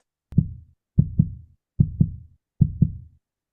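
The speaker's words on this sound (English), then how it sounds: "We have the heartbeat." A deep heartbeat thumps in a steady double-beat rhythm, four lub-dub pairs, close and muffled against silence.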